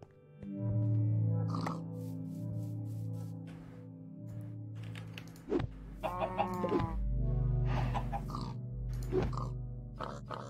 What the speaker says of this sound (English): It occurs to me I should take some of those coal chickens out